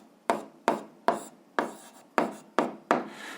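Answers to an algebra exercise on linear functions are handwritten in seven short, scratchy strokes at an even pace, each with a sharp onset that trails off, close and clear with no voices.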